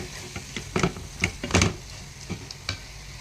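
Spoon scraping and knocking through chicken adobo in a pan, a handful of irregular clanks and stirs over a soft sizzle, close and fairly quiet, no voices.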